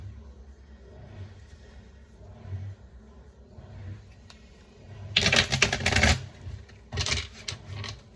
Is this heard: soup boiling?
no